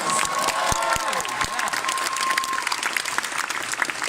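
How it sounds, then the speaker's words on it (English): Audience applause fills the hall at the Anirevo Summer 2018 anime convention opening ceremony, steady clapping throughout with some crowd noise and a few faint voices. "please give him a big round of applause"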